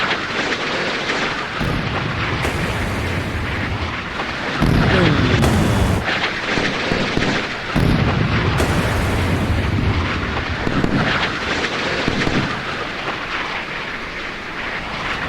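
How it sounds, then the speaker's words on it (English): Several O.H. Perry frigates fire in a naval battle in Sea Power, giving heavy rumbling booms and rolling blasts that swell and fade over a steady roar, with someone talking over them. "Right, 3 Perrys still firing."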